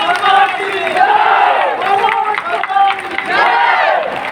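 A large crowd at the closing ceremony of an Arya Veer Dal training camp cheers and shouts loudly, rising and falling waves of many voices over faint clapping, close and continuous for the whole stretch.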